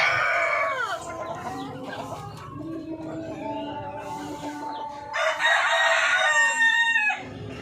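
Native chickens and a rooster outdoors: clucking hens and a loud rooster crow, with another strong crow near the end.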